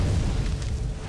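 A fire spell cast in the game Skyrim, a deep rumbling whoosh of flame with a boomy low roar, loud and sustained across the brief moment, no talking over it.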